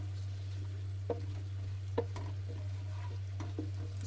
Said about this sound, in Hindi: इसको अच्छे तरीके से हम फ्राई कर लेंगे